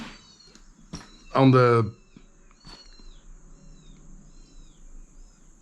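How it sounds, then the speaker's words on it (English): A kitten gives one loud, close meow. Softer high chirps and brief talking can be heard around it. "why do I hear kittens?"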